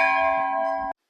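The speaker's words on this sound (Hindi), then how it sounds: "यहाँ पे आप देखेंगे कितने बड़े बड़े घंटे लगे," A large bell rung at the Kali temple in Gangolihat, a single loud, close metallic strike ringing with a rich sustained tone that is cut off abruptly after about a second.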